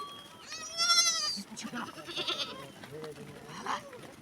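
A sheep bleats loudly and close by in a long wavering call, followed by shorter bleats and livestock noises while people talk in the background.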